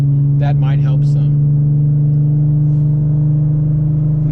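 Audi S4 engine and exhaust while cruising on a highway at night, a loud steady droning hum heard from inside the cabin with the windows up, with brief talk early on.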